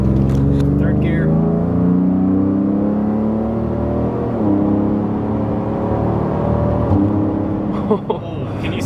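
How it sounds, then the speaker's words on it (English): A Ford Raptor pickup pulls hard through its gears from third, the engine note rising and dropping abruptly at each harsh shift, loud and close from inside the cab, with a brief jolt near the end. "gonna see if we can catch the shifting on video and you can see how aggressive it is."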